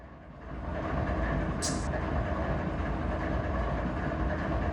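A freight train rolls along the Mojave Subdivision between Bakersfield and Long Beach, California, heard from inside the locomotive cab as a constant low rumble with faint rail rattle and a brief high hiss midway.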